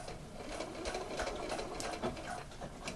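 A sewing machine back stitching the end of an elastic waistband, a steady fast mechanical whirring hum that runs without a break, close and moderately quiet, with no speech.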